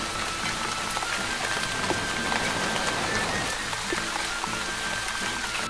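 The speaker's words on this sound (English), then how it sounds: "there's a rainstorm rolling in" Rainstorm rain falls steadily on a farm with corn crops, a dense, continuous hiss of drops pattering on surfaces, loud and close with no voices.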